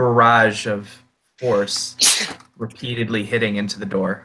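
A single sharp sneeze during a tabletop role-playing session, bursting out between stretches of someone narrating.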